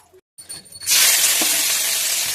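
Prawns hit hot oil in a pan with a sudden loud, broadband sizzle that swells and holds steady, close up, after a brief quiet clatter.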